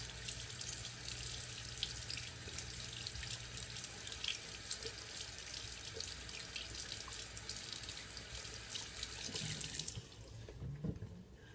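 Water runs steadily from a tap into a sink, wetting a toothbrush, a constant hiss that cuts off near the end, followed by a few small clinks.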